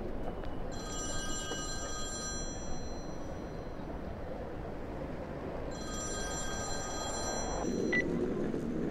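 A telephone rings in two separate bursts of electronic trilling, clear and fairly loud over a steady background hum, with a short click near the end as if the receiver is picked up.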